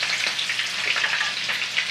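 Shrimp fry in oil in an old Daiso frying pan, giving a close, continuous crackling sizzle with dense, irregular pops and no voices.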